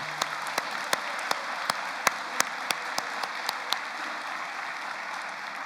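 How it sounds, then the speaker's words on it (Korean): A church congregation applauds its fathers with a steady, even wash of clapping, a few sharp individual claps cutting through nearby. "큰 감사와 격려의 박수를 보내주시기 바랍니다"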